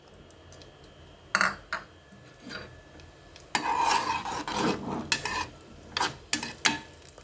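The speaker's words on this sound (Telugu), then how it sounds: "కొంచెం నెయ్యిలో వేగించుకుందాం." Sweet potato pieces frying in a spoonful of ghee in a pan, with scraping and stirring of a spoon and soft crackling in bursts, loudest in the second half.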